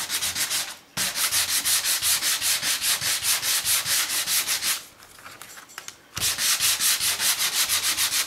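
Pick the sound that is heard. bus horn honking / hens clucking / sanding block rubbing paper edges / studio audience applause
sanding block rubbing paper edges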